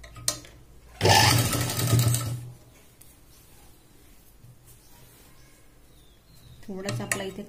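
An electric sewing machine stitches saree fabric being made into a dress, with a loud rapid burst of about a second and a half, quiet room noise after it, and then a shorter burst near the end.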